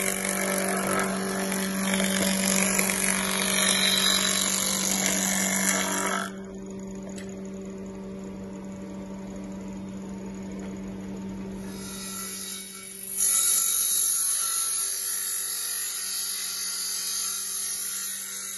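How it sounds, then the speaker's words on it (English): A wood planer's grooving cutter runs with a loud, buzzing machine drone that drops to a lower idle hum midway and then surges back to full cutting intensity, steady and close, with no talking. "This is the grooving cutter."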